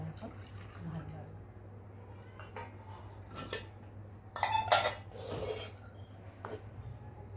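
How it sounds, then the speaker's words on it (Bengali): A plate is washed with water and rinsed into a bowl, with scattered clinks of dishes and short splashes over a low steady hum, a voice talking nearby. "এখন আমি থালাটা ধুয়ে জলটাকে বাটিতে ফেলে আর এখন ভাত বাড়বো।"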